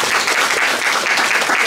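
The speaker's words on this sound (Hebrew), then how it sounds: "מגיע למחיאות כפיים." An audience at a TEDx-style talk bursts into dense, steady applause, many hands clapping together throughout the brief stretch.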